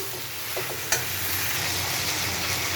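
Spice paste with papaya, carrot and ridge gourd sizzles in hot oil in a pan, with a continuous soft frying hiss and a few stirring scrapes up close.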